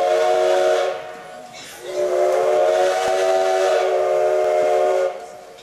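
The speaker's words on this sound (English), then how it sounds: "give him the high ball, and we'll get 2 whistles. 2 whistles is forward" Steam locomotive whistle on an 1880s tourist train in Hill City, South Dakota, gives two loud, close blasts: a first of about a second, then a brief pause and a much longer second blast.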